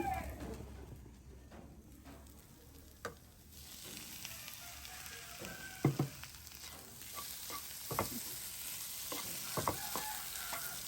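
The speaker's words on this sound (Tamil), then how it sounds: "நல்லா கிளறி போட்டு விடுவோம்" Curry with liver sizzles in a frying pan as it is stirred. After a few quieter seconds the hiss swells, and irregular scraping knocks of the spoon come through close by.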